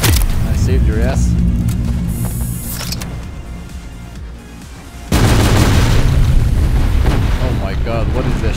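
Cannon fire in the video game Sector's Edge produces heavy booming explosions, with a loud rumbling burst kicking in midway, amid dense battle noise and someone talking over it.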